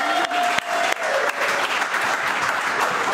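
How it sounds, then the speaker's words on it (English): A podcast studio audience breaks into loud, close applause for a guest, a burst of claps with a few sharp hits near the start, settling into a sustained even clatter. "give her a big round of applause for coming out to the podcast."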